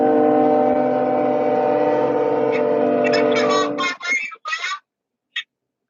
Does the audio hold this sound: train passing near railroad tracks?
yes